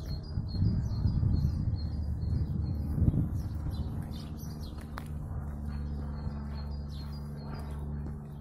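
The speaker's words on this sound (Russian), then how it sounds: "вечно птички поют" Birds sing along an outdoor road near Modletice, Prague, Czech Republic, their faint high chirps repeating over a steady low rumble of distant traffic and wind.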